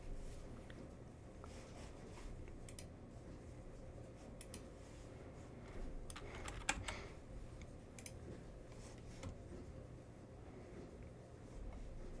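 Faint, quiet keystrokes on a computer keyboard come in irregular bursts of typing and clicks, with a sharper click partway through, against a low background hum.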